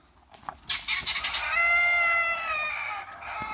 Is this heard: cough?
no